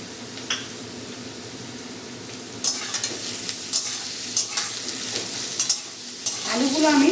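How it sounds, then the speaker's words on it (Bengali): Potatoes frying in oil with dried red chilli and nigella seeds, giving a steady sizzle, with scraping stirs that grow busier toward the end and no talking. "আলুগুলো আমি 3 মিনিট ভেজে নেব"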